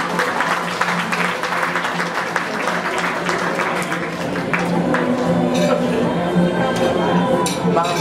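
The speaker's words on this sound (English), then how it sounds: "Let us give a warm round of applause to Ms. Irene Susmenia." Audience at an annual corporate awards ceremony claps in sustained, dense applause that fills the hall, steady throughout and building slightly toward the end, heard in a large room.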